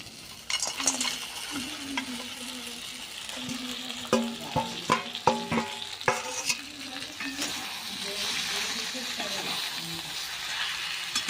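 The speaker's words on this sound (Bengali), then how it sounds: "এবার দিয়ে দেবো ভেজে রাখা সবজি।" Fried vegetables stirred into sizzling spice paste for a fish-head chhyachra with pumpkin and drumstick stems, a steady frying hiss with a burst of sharp spoon scrapes and clinks against the pan midway, close and fairly loud.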